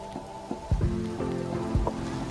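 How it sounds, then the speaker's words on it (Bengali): Rain pattering outdoors near a train station, with scattered drops striking a surface in an irregular rhythm over a soft, continuous background hiss. "বৃষ্টি শুরু হয়ে গেছি বাবা, পুরো প্যান্ট সব ভিজে গেছি।"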